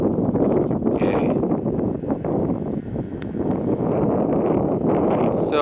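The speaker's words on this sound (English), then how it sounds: "the wind's picking up" Wind gusting across an open mountain pass on a trail, a steady broadband roar buffeting the microphone throughout with no voices.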